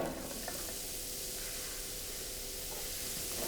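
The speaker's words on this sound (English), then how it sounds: "I'm just gonna saute them together." Onions sauté in olive oil in a pan, giving a soft, steady sizzle with faint crackles, quiet and uninterrupted, with no talking.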